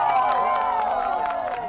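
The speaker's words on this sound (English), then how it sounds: "A cheer erupts as the moon obscures the last traces of sunlight." A large outdoor crowd in a tiny Spanish village cheers and claps continuously at a total solar eclipse, a dense wash of many overlapping voices and applause held at steady loudness.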